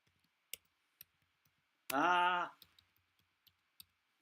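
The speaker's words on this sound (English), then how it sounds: "you'll probably be able to see me type it in" Crisp, isolated keystrokes on a computer keyboard while typing into Chrome, spaced clicks with a short hum-like tone in the middle.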